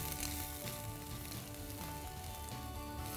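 Mustard seeds, urad dal, chana dal and ginger frying in hot oil while tempering for lemon rice, a steady close sizzle with fine crackling pops throughout and no talking.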